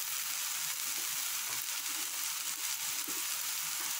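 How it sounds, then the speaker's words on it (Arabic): Red pepper sizzling in hot oil, a steady close frying hiss with faint crackles throughout and no voices. "الحمراء البنات كنحاول نحطها هكا فوق الزويته باش كتطلق لي"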